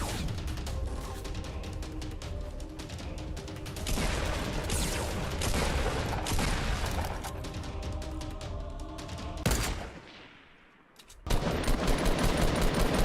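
Dense, loud gunfire from the video game Fortnite rattles in continuous rapid bursts, breaking off briefly into near silence before another heavy barrage resumes.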